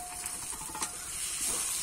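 Ground ghatkol leaf paste hits hot oil in a pan, releasing a fairly quiet, steady steamy hiss and sizzle with one brief sharper burst partway through.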